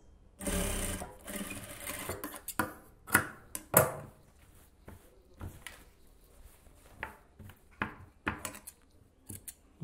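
Scissors snip through blouse fabric in short, irregular cuts, close and fairly quiet, with a denser burst of cutting near the start and scattered sharp clicks and rustles after.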